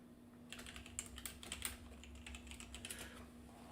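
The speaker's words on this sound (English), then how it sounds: "if I start typing his name down here, he'll come up" Rapid clicking of keys as a name is typed on a computer keyboard, close and fairly quiet over a steady low hum, with no voices.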